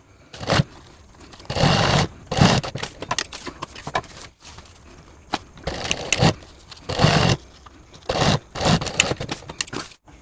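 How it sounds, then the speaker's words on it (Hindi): A sewing machine stitches backpack fabric in several short, loud bursts separated by pauses for repositioning the cloth, with quiet scraping and handling between runs. "इसे हम इस तरह से रखकर सिलाई कर लेंगे।"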